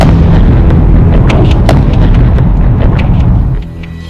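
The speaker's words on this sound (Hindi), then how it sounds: "ऐसे धमाके," Loud, continuous rumbling blasts with repeated sharp cracks, a dense barrage of wartime explosions in the Russia-Ukraine war that eases off slightly near the end.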